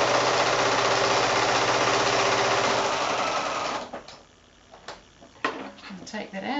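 A sewing machine stitches quarter square triangle quilt blocks made from 5-inch squares, running loud and continuous for about four seconds before stopping, followed by quieter handling clicks and fabric rustle.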